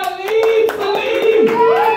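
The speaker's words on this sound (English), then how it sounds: "Everybody start clapping right now." Audience applause at a live comedy show, steady mass clapping throughout, loud and close, with music or tonal sound running beneath it.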